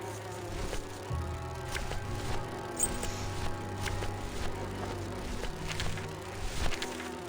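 A bee in the video game Grim Fandango drones in a low, steady buzz, close and continuous, with occasional clicks and small sounds over it.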